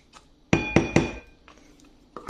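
Mascarpone being mixed for tiramisu in a bowl, heard as a few bright clinks and taps of a utensil against the dish in quick succession, with softer scraping knocks after, close and fairly quiet.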